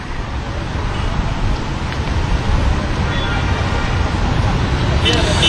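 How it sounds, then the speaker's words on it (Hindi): Strong storm winds roar through a Delhi street during a dust storm, a continuous dense rumble mixed with traffic noise, loud and close throughout. "बहुत तेज हवाएं चल रही हैं।"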